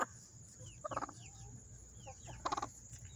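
Chickens in a coop cluck in short, clustered bursts of a few notes each, close and moderately loud, with no voices.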